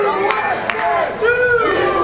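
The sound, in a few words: wrestling arena crowd cheering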